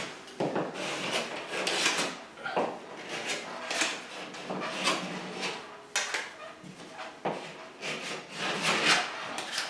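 A tool scrapes excess adhesive off the side of a newly fitted plaster ceiling rose in repeated rough strokes, each a scratchy burst close by, with short pauses between them.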